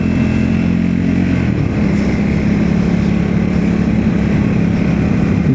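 A Triumph Scrambler motorcycle is being ridden with a loud, steady engine drone heard up close. The pitch drops slightly early on, then holds even throughout, with no voices.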